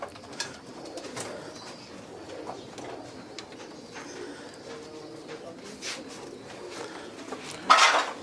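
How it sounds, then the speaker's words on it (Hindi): A teddy pigeon, a performance breed, gives quiet repeated coos against a faint room background, with brief clatter and a sharper burst of noise near the end. "ये टैडी कबूतर है"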